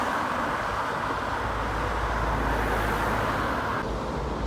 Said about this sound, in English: when there's a dump truck just driving around.